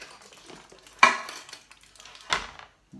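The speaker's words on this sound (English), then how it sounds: "we're gonna take it out of the tin" A homemade Twix bar is lifted out of a metal baking tin, giving two sharp metallic clatters about a second apart amid quieter scraping and handling noises, with no talk.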